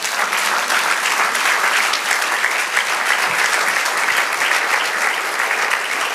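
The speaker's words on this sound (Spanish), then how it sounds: "Dan un aplauso, Señor" A church congregation applauds together in a steady, dense wash of clapping that holds at an even, fairly loud level throughout.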